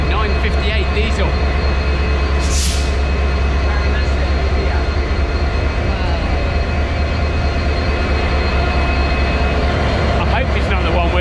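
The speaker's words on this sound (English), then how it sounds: "It's a Class M11 958 diesel." Class M11 diesel train idling or moving at Maradana station platform in Colombo, Sri Lanka, producing a loud, continuous low engine rumble with steady tonal hum; voices talk briefly nearby.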